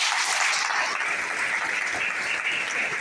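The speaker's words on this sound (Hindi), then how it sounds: "एक बार दिल से जोरदार ताली मारो।" Steady, dense applause from an audience at a direct selling business plan seminar in Dombivali, Thane, filling the room without pause and with no talk over it.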